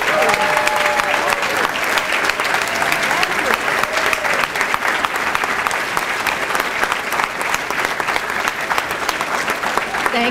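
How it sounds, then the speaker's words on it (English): Sustained applause from a large audience, dense steady clapping filling the whole stretch, with faint cheering mixed in. "Let's give them a round of applause."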